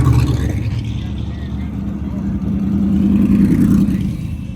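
A drag race car from Sick Week 2024 drives by in street traffic, its engine drone rising and holding before easing off. The sound is loud and close, with voices talking over it.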